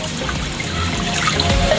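A saltwater solution being stirred by hand for a hydrometer salinity test, giving a continuous close-up swishing and sloshing of liquid with no talk.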